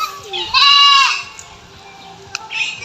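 Goat bleating on a farm where goats are raised, one clear, loud, wavering bleat near the start, followed by quieter rustling and a short second call.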